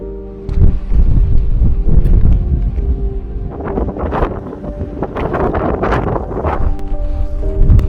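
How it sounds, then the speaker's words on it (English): Strong gusting wind roars across the microphone at a mountain pass in Wales below Tryfan, loud and continuous with buffeting surges throughout and no talk. "this is windy. This is windy."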